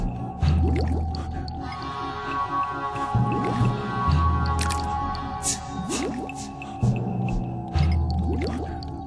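A tar pit in a video game bubbles thickly, with repeated gloopy pops and squelching glugs that rise in clusters over a low droning backdrop and return every couple of seconds.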